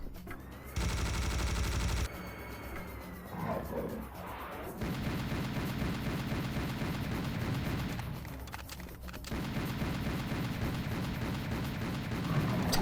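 Gunfire against enemies in a video game, dense rattling bursts and booming shots layered over a continuous rumbling game soundscape, with a loud buzzing block early on.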